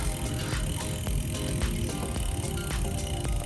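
Bicycle ridden along, a steady rolling and mechanical rattle with faint clicks from the drivetrain, close and continuous, no talking.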